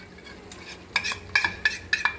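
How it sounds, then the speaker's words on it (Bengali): A yogurt and spice mixture is stirred into sautéed masala in a pan for a Bengali masala paneer, with rhythmic scraping strokes and light utensil clatter over a low sizzle. "মশলাটা কষানো হওয়ার পর আমি এই দইয়ের মিশ্রণটা, সমস্ত উপকরণ দিয়ে যে মিশ্রণটা তৈরি করে রেখেছিলাম সেটা দিয়ে দিলাম"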